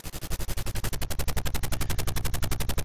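Rapid, loud automatic gunfire in the 1988 SNK arcade game P.O.W. Prisoners of War, with dense evenly spaced shots continuing without pause for about three seconds and no talking.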